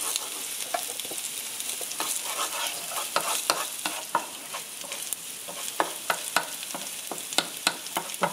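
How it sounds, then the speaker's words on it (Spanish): Vegetables with ginger sizzle and frying in a pan over medium heat, with a utensil scraping and clacking as they are stirred; close, steady crackle with no talking. "Lo estoy moviendo para que no se me queme. Es a fuego medio, se hacen estas verduras."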